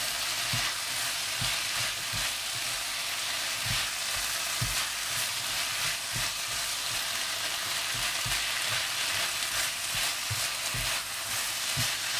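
Stir-fry for Schezwan rice sizzles steadily in a pan with chili sauce, chili garlic sauce and turmeric, a loud continuous hiss broken by regular low scraping thumps of a spatula stirring throughout.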